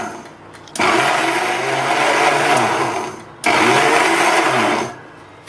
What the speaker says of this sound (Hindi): अब हम मिक्सर में मैदा और बटर को पल्स करेंगे